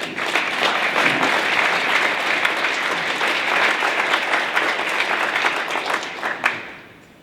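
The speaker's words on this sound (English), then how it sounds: "let's give them all a great big round of applause" An audience at a spring charity impact event applauds with dense, sustained clapping for about six seconds before it tapers off.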